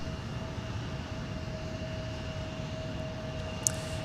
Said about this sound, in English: I'm at a 787 Dreamliner, KLM. Yes, you'd be correct on both. 787-9.